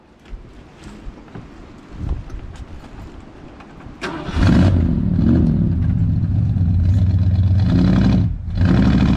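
A 1965 Ford Galaxie 500 hardtop, long parked with its rear wheels sitting in water, starts with a cranking sputter, then its engine roars into a loud, steady, close rev that dips briefly near the end.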